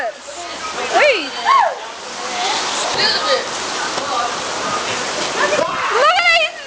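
Rainwater splashing on a rainy day at a school, a continuous wet spattering hiss under excited voices and high-pitched shouts, with a few louder splashes near the start and end.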